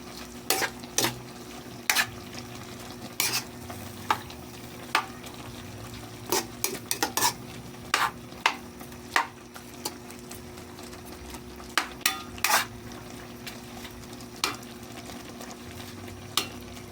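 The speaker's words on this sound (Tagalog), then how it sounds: "Mix-mix natin. para maluto din siya" Stingray pieces are stirred while cooking in a pan, with a soft continuous sizzle under repeated scraping clicks of a utensil against the pan at an irregular pace.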